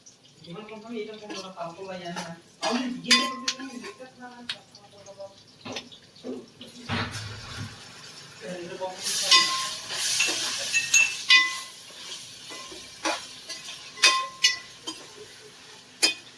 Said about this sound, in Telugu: ఇప్పుడు మనం అల్లం వెల్లుల్లి పేస్ట్ ని వేసుకుందాం